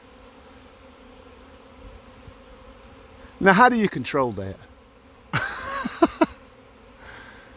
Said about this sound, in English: The whole sky is just filled with bees.